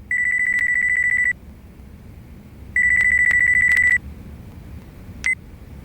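A flip phone ringtone rings in the video game Yakuza 5 Remastered: two long electronic trills about a second apart, then a very short third chirp, loud and clear over faint background sound.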